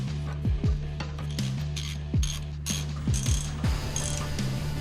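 A ratchet wrench clicks as the lower strut mounting bolts are fastened on a 2005 Mercedes-Benz C230 Kompressor Sport, with quick irregular bursts of pawl clicks and short pauses, close and clear over a steady background hum.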